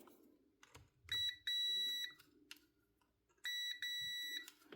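A multimeter continuity-testing the power lead of a 20-year-old Bosch GBH 5-40 DCE rotary hammer, giving two sustained electronic beeps, each about a second long, with faint handling clicks between.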